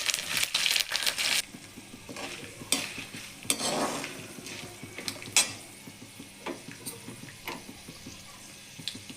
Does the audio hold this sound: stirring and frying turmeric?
yes